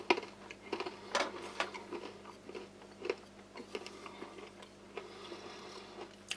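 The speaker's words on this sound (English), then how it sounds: "Crispy, crunchy, very hard. You can hear that snap." Hard Polish Arpol ration biscuits snap and crunch in a series of sharp, irregular cracks and crumbly bites, close and fairly quiet.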